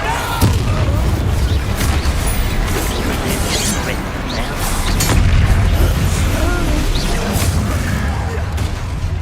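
Bombarda spell explosions during a goblin battle in Hogwarts Legacy: deep booms and crashes within a dense rumble of combat noise, loud and continuous, with speech intermittently over the fighting.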